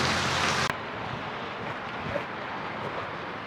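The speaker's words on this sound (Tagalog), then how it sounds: "Minsan malakas ang ulan, minsan ambon-ambon lang." Steady typhoon rain patter with a soft broadband hiss in Maragondon, Cavite, a brief louder burst at the very start, then constant even drizzle with faint wind.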